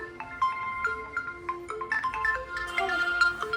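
A phone ringtone plays a short, bright, melodic sequence of electronic tones at moderate volume, repeating with slight variation.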